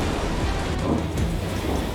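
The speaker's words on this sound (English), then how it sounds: "Looks like the storm is close." Thunderstorm drawing near, with steady heavy rain and a low rumble of thunder filling the background throughout, no voices.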